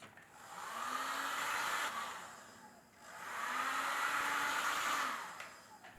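Heat gun blowing hot air onto the walls of a freshly thrown clay bud vase on the wheel, a steady close whooshing roar in two long passes with a brief dip between them.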